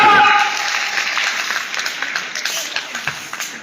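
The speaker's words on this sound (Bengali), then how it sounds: "হাততালি মারু জোরে মারো" A crowd at a motivational business meeting bursts into applause: a dense, crackling wash of clapping that starts loud and slowly thins, with scattered sharper individual claps toward the end.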